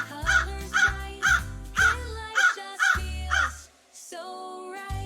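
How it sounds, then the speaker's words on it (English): A crow caws repeatedly in a steady series of harsh, loud calls up close, with a low throbbing sound underneath several of them. "This is a crow."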